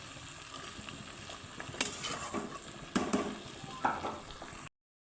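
Fennel seeds fry in a hot pan for a Bengali fennel-and-katla fish curry, giving a steady close sizzle broken by a few sharp clicks and stirring knocks, with no one talking.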